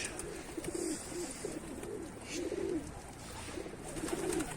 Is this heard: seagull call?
yes